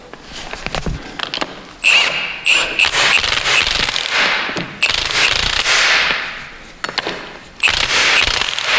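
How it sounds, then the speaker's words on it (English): An impact wrench drives a nut onto a bolt while installing an ARB Air Locker differential, giving loud rattling bursts in several separate runs with brief pauses between them and no talking. "And then I'll drive it on with the impact wrench to get that pulled through."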